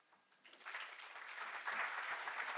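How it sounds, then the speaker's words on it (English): Conference audience clapping at a pension supervisors' association event, starting sparse and swelling into steady, dense applause across the room. "Proper round of applause for Victor."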